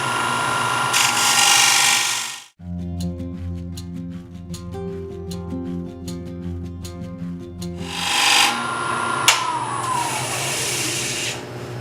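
A wooden platter spins on a wood lathe, with tool scraping and rushing noise at the start and end framing a steadier stretch of humming motor tones and light ticking in the middle, loud and close, with no talking.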